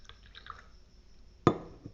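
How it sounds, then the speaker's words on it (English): A single drop of water lands in a glass with a short, bright splash, heard near and alone after faint quiet bubbling, with a small follow-up plink at the end. "when we drop water in the glass,"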